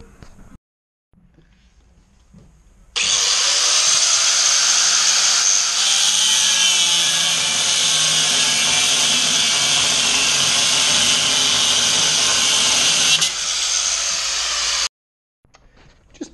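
An angle grinder with a worn-down disc, used during a rudder repair on a 7 meter yacht, runs loud and steady for about ten seconds, spinning up abruptly and cutting off, with quieter workshop sounds before and after.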